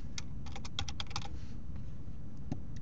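Someone types a quick burst of keystrokes on a computer keyboard, then a pause and a couple of isolated key taps, close and clear, with no talk.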